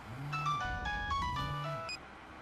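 A mobile phone rings with a quiet electronic melody, several bright tones repeating in a short musical pattern over a soft low hum and then stopping.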